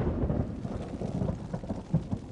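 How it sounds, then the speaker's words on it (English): Thunder rolls through a thunderstorm with rain, a continuous low rumble with a few stronger swells and no voices. "Lightning and thunder were definitely acts of God"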